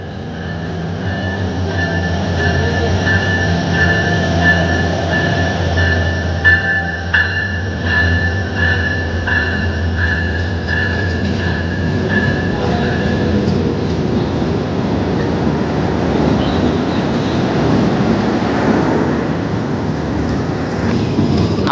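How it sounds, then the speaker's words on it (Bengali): The Madhumati Express, running Dhaka to Rajshahi, rolls into a station platform with a loud, continuous rumble of wheels and carriages that shifts into rougher clatter partway through, heard alone without voices. "মধুমতি এক্সপ্রেস ট্রেন অলমোস্ট চলে এসেছে।"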